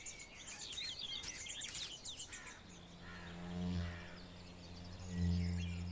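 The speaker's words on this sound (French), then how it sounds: "Cette fauvette épervière a pioché dans la colonie de chenilles de pan du jour de quoi nourrir ses oisillons." A barred warbler calls outdoors while feeding its chicks with caterpillars, a few quick chirps and trills early on, followed by softer calls over a low droning background.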